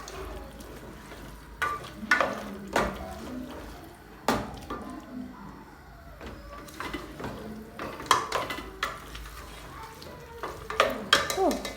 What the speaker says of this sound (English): Then stir.